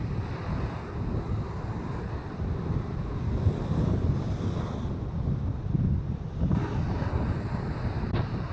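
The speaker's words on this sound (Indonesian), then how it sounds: "Lumayan anginnya, dan bisa kedengaran di sini sama mic ya." Strong wind on Karapiak Beach buffets the microphone in low rumbling gusts, with surf faintly washing underneath and no voices.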